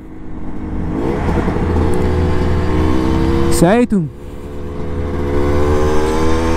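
A Yamaha DT200 dirt bike engine rumbles nearby, then revs sharply up and drops back, loud and close, with someone speaking briefly over it.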